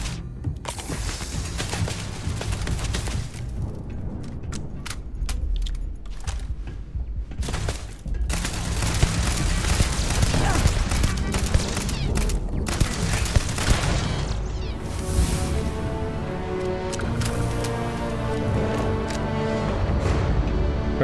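Automated turret gunfire in Starfield, bursts of rapid shots and impacts cracking through a busy combat mix, sparse at first then denser and louder, with a robotic voice and music-like tones later.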